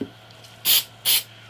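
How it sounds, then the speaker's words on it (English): Two short, sharp hisses from a spray bottle while building a hollow-body electric jazz bass, evenly spaced, close and fairly loud against a faint background hum. "Magic, give it a bit of a spray."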